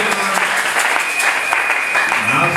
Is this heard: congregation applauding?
yes